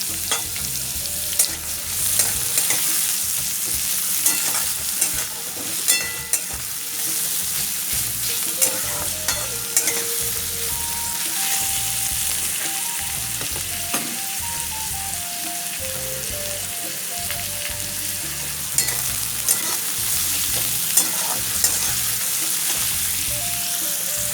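Onion, ginger and garlic fry in hot oil, giving a steady, close sizzle for the whole stretch while repeated scrapes and knocks of the stirring spoon come through with a clear rhythm.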